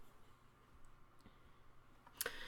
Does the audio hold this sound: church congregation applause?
no